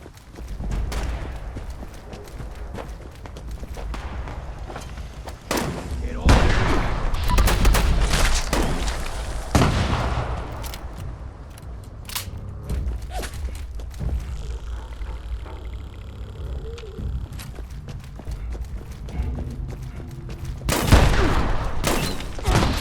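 Gunfire crackles in Fallout 76 around Atlantic City, bursts of shots and booms come in clusters with quieter stretches between, and a heavy volley near the end.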